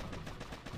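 A machine gun fires in the Boom Beach mobile strategy game during a tank attack: a very short, faint burst of rapid shots.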